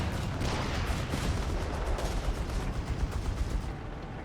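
A .50 cal machine gun fires in the World War II strategy game Company of Heroes 3, a dense, continuous roar of rapid bursts mixed with other battlefield gunfire, loud and unbroken for several seconds.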